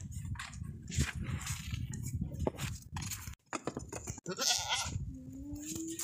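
A strong young sacrificial goat for Qurbani, at a livestock sale, bleats loudly and nearby amid shuffling, clinking and hoof noises, with a quieter voice briefly in the background.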